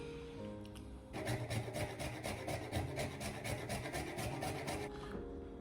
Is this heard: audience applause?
no